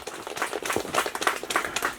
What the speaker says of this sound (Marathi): त्याबद्दल मानदेशी फाउंडेशनचं आपण सर्वांनी टाळ्या वाजवून स्वागत करायचं आहे.